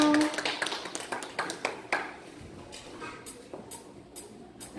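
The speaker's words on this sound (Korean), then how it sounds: "환영의 박수 부탁드리겠습니다" Audience applause greets a professor at a charity bazaar event, scattered hand claps and taps fading to sparse, lighter claps over a few seconds, moderately distant with room echo.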